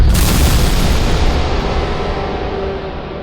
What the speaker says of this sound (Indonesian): Ada suara ledakan yang begitu kencang.